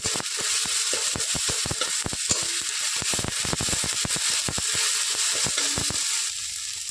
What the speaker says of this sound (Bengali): এবার বেটে রাখা মশলাটা দিয়ে দেব। মশলাটা ভালোভাবে ভেজে নেব।